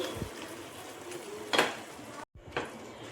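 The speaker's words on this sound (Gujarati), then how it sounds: "આપણે હલાવીને સરસ એવું મિક્સ કરી દઈશું." A spoon scrapes and clinks in a pot while unsalted spiced potato farali is stirred and mixed, with a few distinct knocks and scrapes over quiet kitchen background.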